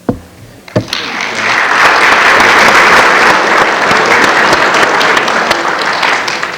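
An audience at a Concordia University talk applauds Professor Novak, a few scattered claps swelling into a steady, loud round of clapping that holds for several seconds.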